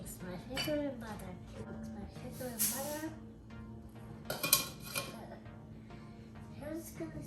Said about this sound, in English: Next, I'm going to mix my sugar and butter.